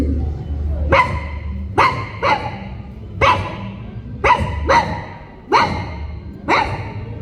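A voice imitates dogs barking: about eight sharp, loud barks in an uneven rhythm, close by, over a low hum.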